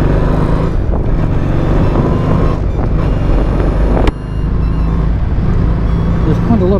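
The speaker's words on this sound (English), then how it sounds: "there's quite a lot of traffic about for a public holiday" Traffic on a street in Buenos Aires on a public holiday, with loud, close vehicle rumble and wind buffeting the microphone while someone talks.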